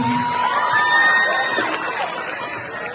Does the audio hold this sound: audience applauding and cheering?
yes